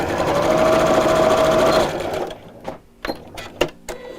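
A sewing machine stitching fabric corner pieces runs in a steady, close whirring burst for about two seconds, then stops, leaving a few light clicks and taps.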